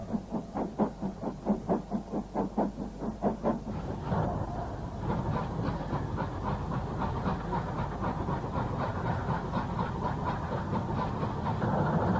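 Steam locomotive Morlace Castle pulling out of a station, with strong rhythmic exhaust chuffs at first, then a continuous rumble and wheel noise as the train gathers speed, loud and close with no voices.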